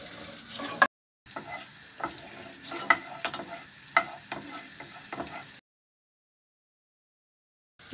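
A spoonful of butter sizzles in a pot as the base for a soup, a steady soft frying hiss with a few light clinks of stirring. It cuts out abruptly partway through.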